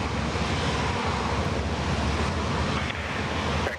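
A Jetstar airliner at Sydney Airport gives off a steady, loud, broadband jet roar that holds nearly constant throughout, with a slight dip near the end.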